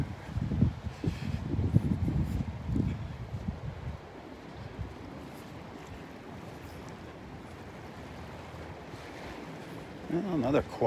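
Wind gusts across the mic at a beach at Delnor-Wiggins on a quiet morning, rumbling buffets loudest at the start and again near the end, with a softer steady rush of surf and air between.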